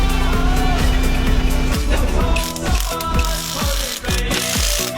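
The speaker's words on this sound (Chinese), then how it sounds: "拿个快速扳手啊，给它加下力。" A ratchet speed wrench tightens a fitting on a leaking truck engine, rapid clicking turns that start steady and then break into distinct pulls with pauses, close and loud, without talking.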